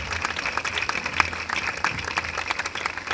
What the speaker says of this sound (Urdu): زوردار تالیاں بجائیں اپنے خداوند کے لیے